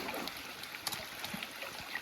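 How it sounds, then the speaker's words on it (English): A mountain stream in the Adirondack woods flows in a steady, close wash of water with faint trickles and gurgles running throughout, with no one speaking. "So this is a nice mountain stream."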